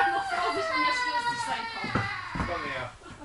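Young children wailing and crying together inside a museum, a dense, continuous chorus of high voices with a couple of sharper cries near the end, fairly close and steady in level.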